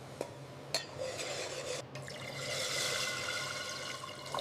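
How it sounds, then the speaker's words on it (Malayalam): Water splashes quietly into a pan of Kerala-style roasted-coconut fish curry with kodampuli (garcinia tamarind), chilli powder and salt, a soft, close trickle of pouring liquid with a few small clinks along the way. "വെള്ളം ഒഴിച്ചു കൊടുക്കാം."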